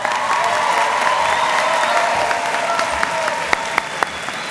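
Graduates at the 2015 Latina/o graduation celebration receive a dense, sustained wave of audience applause, loud and steady throughout with a few sharper individual claps near the end.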